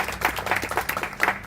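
At a life celebration gathering, a roomful of people claps in a brief burst of applause, soft and somewhat muffled, lasting only a moment.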